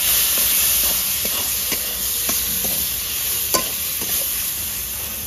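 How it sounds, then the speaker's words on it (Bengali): Chopped tomatoes dropped into a pan of frying ground spices such as coriander and chili powder, a loud constant sizzle and hiss with occasional stirring scrapes and taps, no talk. "এখানে দিয়ে দেবো কেটে রাখা টমেটো"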